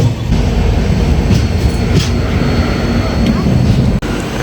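Steady loud rumble and rattle of an Indian Railways train moving slowly toward Chengalpattu, continuous rolling noise from inside a carriage, with faint voices underneath.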